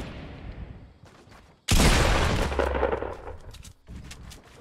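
Fortnite gunfire in a $5000 tournament match: a sudden loud burst of shots hits after a quiet stretch and sustains for about two seconds, then trails into scattered softer shots and game ambience.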